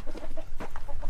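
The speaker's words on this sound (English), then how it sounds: "we have chickens" Chickens at an animal sanctuary cluck close by in a quick run of short, throaty calls, with no talk over them.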